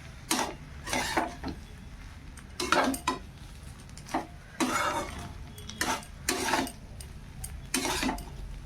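Rice with shrimp being stirred in a pan, a spatula giving repeated scraping, clinking strokes against the metal at an uneven rhythm, close and fairly quiet with short pauses between strokes.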